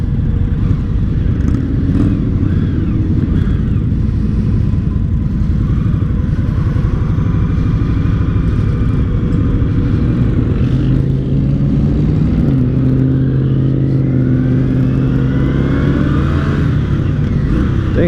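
An Indian Scout 60 cruiser motorcycle is ridden, its engine droning loudly and continuously under heavy wind rush, with the pitch rising and shifting near the end as it accelerates.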